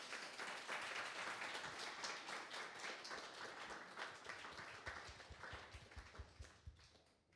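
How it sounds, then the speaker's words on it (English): A roomful of people applauds panelists at an agricultural conference, a dense steady patter of clapping that thins toward the end into scattered individual claps. "let's please give a big round of applause to our panelists"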